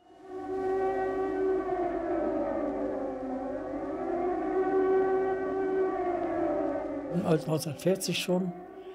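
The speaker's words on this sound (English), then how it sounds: "The air raid sirens started sounding in 1940." A wailing air raid siren holds a long rising-and-falling tone, distant and echoing, until a burst of other noise breaks in near the end.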